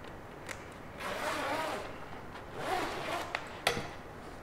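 Two short, raspy zipping strokes of a zipper pull on a fishing leader sound up close against quiet background, with a few small clicks and taps between them.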